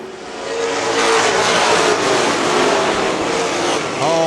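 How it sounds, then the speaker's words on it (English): Pro stock race cars roar past on a racetrack at Norms Used Cars event, engines loud and sustained, building in and rising into a close, steady whine. "Fast cars in the back trying to make their way through."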